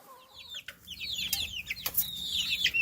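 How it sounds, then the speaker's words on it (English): A hen clucks and chatters in quick, scratchy bursts of rising calls, fairly faint over a low background hum, without any voices. "Hen."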